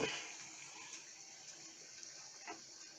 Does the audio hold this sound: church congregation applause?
no